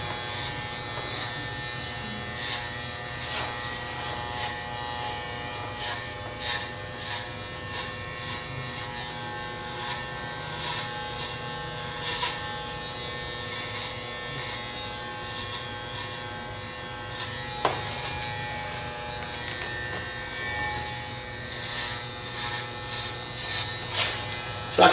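An electric hair clipper fitted with a guard cuts a flattop, giving a steady, close, continuous buzzing hum with faint snips and brushing sounds from the hair throughout.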